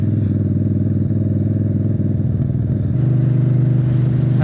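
A motorcycle engine revs unevenly while the clutch slips, a loud, close, rough mechanical drone with rapid pulsing firing that shifts pitch partway through and rises again at the end.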